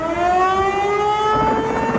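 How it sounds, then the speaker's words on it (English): Loud outdoor tornado warning sirens wail on a sustained, slowly rising tone during severe storms with hail and heavy rain, steady and continuous with a faint rumble of weather beneath. "Tornado warning sirens sounding the alarms"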